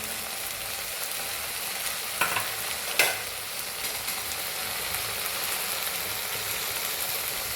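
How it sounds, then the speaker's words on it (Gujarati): Spices for rajma sauté in hot oil, a steady close sizzle of frying with a couple of brief stirring scrapes partway through. No one speaks. "તેને પણ સારી રીતે તેલમાં સાંતળીશું."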